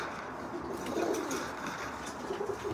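Pigeons coo softly and repeatedly in a loft, their low murmuring calls sitting close under a light background hiss.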